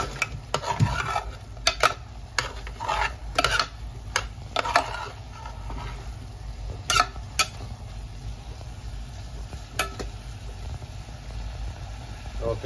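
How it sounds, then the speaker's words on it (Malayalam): A pan of raw plantain stir-fry (upperi) is stirred with a utensil, giving repeated sharp scrapes and taps over a soft, low sizzle, close and with no talking. "അപ്പൊ നമ്മൾ ഒന്നും കൂടെ ഇളക്കി കൊടുക്കട്ടോ."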